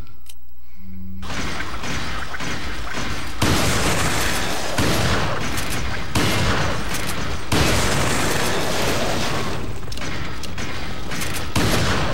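Shotgun fire and heavy gunfire from a fight in the survival horror game Resident Evil 4, loud, dense and continuous, with a few abrupt breaks between bursts and a brief quiet start.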